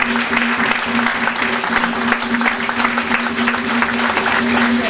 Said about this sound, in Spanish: Démosles un aplauso a ellos.